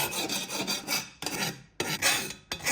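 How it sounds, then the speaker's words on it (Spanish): A hand file rasps over the cut edges of metal taken from a fire extinguisher to remove burrs, in four rough scraping strokes separated by short pauses, close and fairly loud. "Vamos a eliminar las rebabas."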